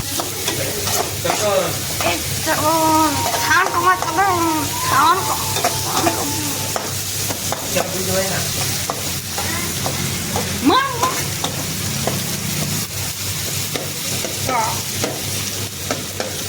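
Food stirred and fried in a pan with onion and chilli, a steady sizzle under scraping stirring strokes, with people talking over it throughout.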